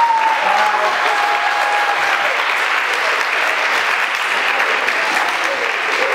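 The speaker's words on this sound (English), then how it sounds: "Everybody, please give a round of applause." A large crowd applauds steadily and loudly, a dense wash of clapping that holds evenly throughout.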